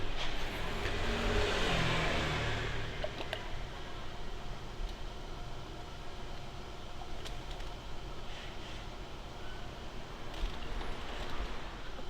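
A Volkswagen Tiguan diesel engine idles steadily after starting, a continuous low mechanical hum and clatter heard from nearby, with a brief rise in revs near the start.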